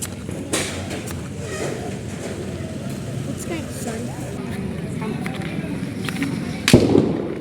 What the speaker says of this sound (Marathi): तर हा बीडी बॉम्ब वाजवतोय कसा वाजवतो बघू